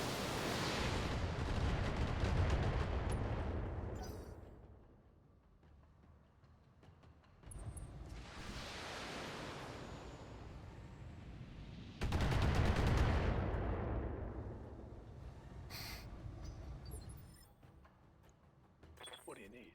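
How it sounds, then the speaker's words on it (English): In the mech combat video game BattleTech, missile salvos and artillery fire erupt in three long, roaring bursts of rumbling explosions, each swelling then fading, with brief sharper snaps between them. "And just go all out with the missiles."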